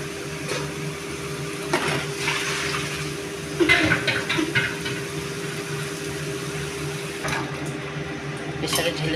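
Water poured into a pressure cooker in a home kitchen, a steady close splashing wash over a constant low hum, with a few louder clattering bursts partway through and no talk.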